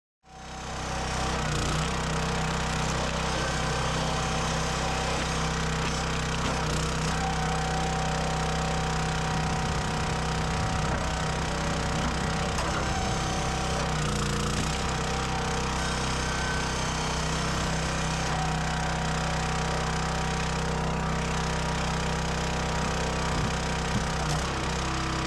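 A roadside firewood splitter runs continuously as it splits big wood rounds, its steady engine drone holding loud and close throughout with occasional shifts in load, and no talking over it.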